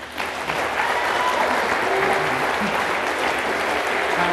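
An audience applauding at the end of a talk on maths and video games, a dense, steady clapping that swells in at the start and holds at an even level throughout.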